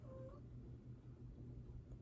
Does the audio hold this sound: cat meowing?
yes